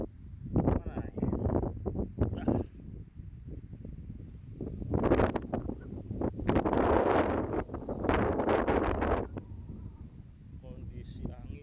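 Strong coastal wind buffets and roars in uneven gusts against the microphone, with people talking throughout.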